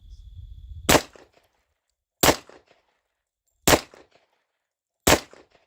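Four sharp pistol shots from a Tisas 10mm Yukon at an outdoor range, loud and close, spaced about a second and a half apart, each followed by a short echo.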